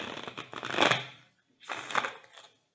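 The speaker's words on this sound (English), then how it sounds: "I'll go ahead and do some shuffling." Two bursts of shuffling from a deck of small tarot cards, a longer riffle then a shorter one after a brief pause, soft and close with no talk.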